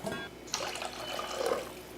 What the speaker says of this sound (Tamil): தண்ணி கொஞ்சம் சேர்த்தாச்சு